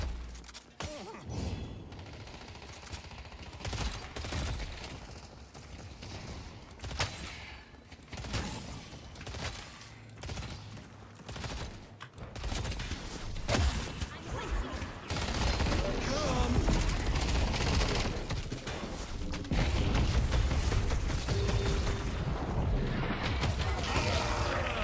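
Dynamo's gun fires in a video game in repeated rapid bursts of sharp cracks, some loud and some fainter, mixed with clattering and shattering game effects. A denser, steadier stretch of noise builds toward the end.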